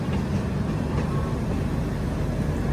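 A steady low rumble of a passenger train moving off, continuous and even throughout with no voices, a broad heavy roar filling the whole moment.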